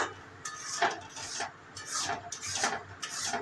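A spoon scrapes and rubs against a pan as a thick ripe-mango filling for patishapta is stirred, giving repeated rasping strokes every half second or so, fairly close and moderately quiet with no talking.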